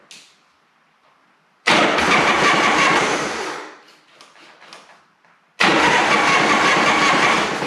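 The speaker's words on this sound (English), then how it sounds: "Turn the key on. And we'll see if we can get her to start." A 1985 Harley-Davidson FXRT Sport Glide engine, primed with ether and choked, bursts into loud running twice: a few seconds of rough roar, a sputtering lull as it nearly dies, then a second loud catch.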